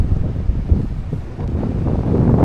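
Cool wind blows at a quiet waterside spot, producing a steady low rumble and buffeting against the microphone for the whole stretch, with no voices.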